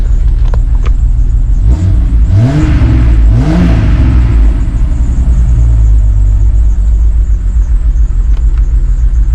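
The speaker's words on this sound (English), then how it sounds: "give it some revs" A 1996 Jeep Cherokee XJ engine idles with a steady low rumble, then revs up sharply twice in quick succession before settling back to idle, loud and close.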